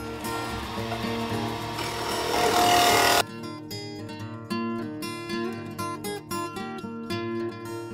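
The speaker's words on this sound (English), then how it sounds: "I'm gonna switch to the scraper" Scraper hollowing out a wooden cup made from firewood, giving a loud, continuous rough scraping that stops abruptly, then shorter rasping strokes in a quicker rhythm, close up with no speech.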